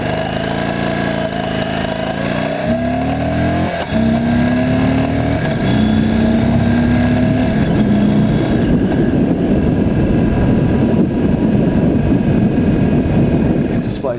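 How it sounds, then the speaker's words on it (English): The 1,811 cc Indian Chieftain Thunderstroke 111Q V-twin on a 2014 Indian Chieftain motorcycle runs steadily and close for the whole stretch, with rising engine tones early on and a loud, constant rumble after that. "I'm sure Munro would approve of the Thunderstroke 111Q power plant, because it really is a thing of beauty, both aesthetically and throttle-wise"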